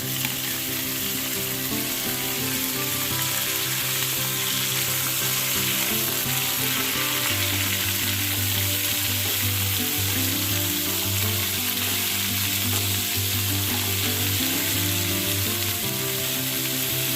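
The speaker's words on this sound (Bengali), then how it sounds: "কুমড়োটা ভাজা ভাজা হয়ে গেছে" Potato and small pieces of raw pumpkin fry in oil, giving a steady, loud sizzle that crackles evenly for the whole stretch with no voices over it.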